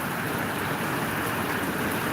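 Steady heavy rain pours down in Gboko, a dense, continuous broadband hiss with no break, loud and close with no voices over it.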